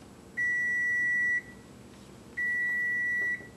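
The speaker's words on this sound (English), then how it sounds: "Go ahead and set your timer for 20 minutes" A kitchen timer being set for 20 minutes gives two long, steady electronic beeps, each about a second long and separated by a short pause, clear and close in a quiet room.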